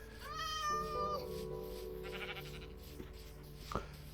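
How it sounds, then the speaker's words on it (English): A cat in modded Minecraft gives a clear, rising meow close by, followed by quieter game ambience and a brief sharp click near the end. "Oh, it's a kitty cat"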